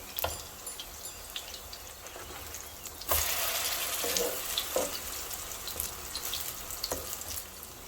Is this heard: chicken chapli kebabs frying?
yes